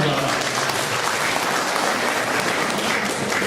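Seminar audience at a national mathematics seminar clapping together, a loud, dense, continuous wash of applause from a room full of people, with no break over a few seconds.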